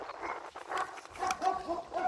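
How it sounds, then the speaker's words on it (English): A dog barks a few times at a moderate distance outdoors, short yelping bursts over faint background noise. "Oh, my dog's barking."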